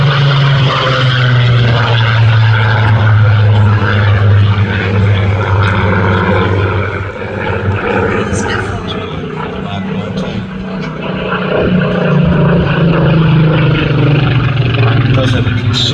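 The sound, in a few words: Spitfire propeller aircraft flying at air display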